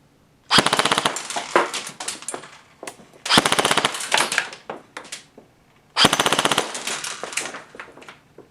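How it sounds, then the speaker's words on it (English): A G&G Combat Machines M4 airsoft gun with a Systema Energy motor fires three rapid full-auto bursts, a fast buzzing rattle of shots, each burst trailed by irregular clattering pellet impacts, close and loud. "Now with the Systema Energy motor installed, we can go ahead and test the rate of fire."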